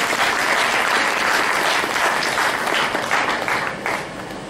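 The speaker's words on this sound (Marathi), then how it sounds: "दोघांसाठी एकदा जोरदार टाळ्या" Steady, dense applause from an audience at a Marathi devotional storytelling and bhajan session, loud and sustained throughout before easing slightly near the end.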